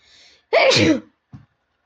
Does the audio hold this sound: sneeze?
yes